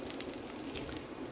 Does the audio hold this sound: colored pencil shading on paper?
no